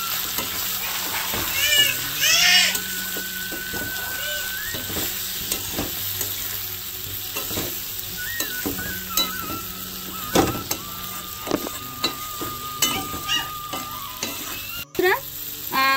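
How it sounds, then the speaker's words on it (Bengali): Cauliflower being stir-fried with spices and salt in a pan, with steady sizzling and repeated spatula scrapes; a cat meows intermittently in the background over the close, continuous frying. "ভালো করে সবজিটা কষিয়ে নেব এই মশলাগুলো দিয়ে।"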